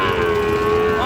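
At a busy village cattle market selling Sahiwal bull calves, one cow lets out a loud, close, sustained moo that holds a steady pitch throughout.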